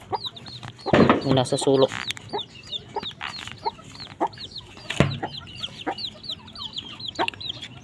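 Small young chickens in a backyard coop cluck and peep repeatedly, close and lively, while a person talks over them, with a louder burst of fowl noise near the start.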